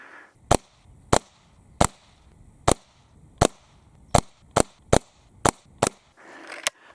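A Hatsan Model 25 Supercharger .177 air pistol firing pellets, ten sharp cracks spaced about half a second to a second apart, close and loud over quiet outdoor background.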